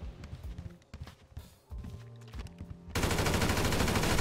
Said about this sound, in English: I didn't expect Michael and them was gonna start shooting though